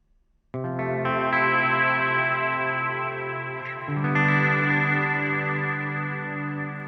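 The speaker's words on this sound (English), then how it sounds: "So we've got a really bright, present reverb" Music with a bright, washy reverb: sustained chords swell in, shimmering and spacious, then shift to a new chord that rings on.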